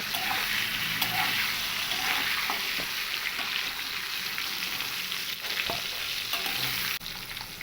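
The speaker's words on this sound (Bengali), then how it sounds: "ওই একই তেলের মধ্যে আমি কিন্তু আলুর টুকরোগুলোকেও ভেজে নেব" Potato pieces fry in hot oil in the pan just used for pointed gourd, giving a steady, loud sizzle with occasional stirring clinks, alone without talk.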